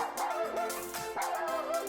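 Cartoonish dog barks and yips from a puppy in the Toca Life World mobile game, short playful bow-wows repeating in quick succession over game music, with no talking.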